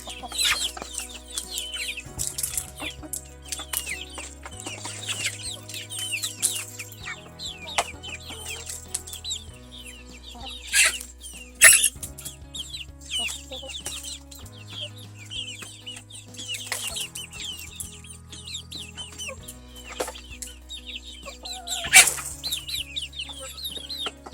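Chickens at a cork-topped feeder cluck intermittently throughout, with occasional sharper squawks and wing flaps, over steady background music.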